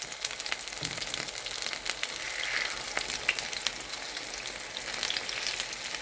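Cucuzza squash flowers frying in hot oil, a steady dense sizzle with crackling pops throughout, close and continuous, no voices.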